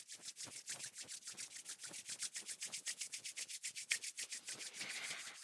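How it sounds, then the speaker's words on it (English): Two palms rub briskly back and forth in a steady rhythmic swish, about six strokes per second. The sound is close and soft, with no talk over it. "Bring the palms of the hands together and give them a big rub."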